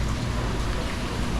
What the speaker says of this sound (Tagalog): hapon malakas ang ulan